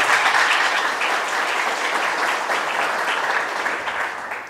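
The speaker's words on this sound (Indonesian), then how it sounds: "Saya pengen dengar tepuk tangannya dulu deh untuk melihat semangatnya." Mechanical engineering students at a university lecture clap together, loud, dense applause that stays steady before easing slightly toward the end.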